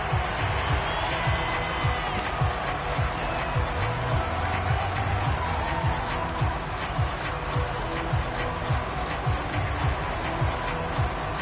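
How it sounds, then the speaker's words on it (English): Crowd cheering and roaring in a PS4 American football video game as a big 3rd down approaches, a steady, loud stadium din swelling with whoops, with commentary voices running over it throughout. "the crowd getting into it as we come up on a big 3rd down"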